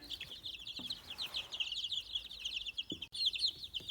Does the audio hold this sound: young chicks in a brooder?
yes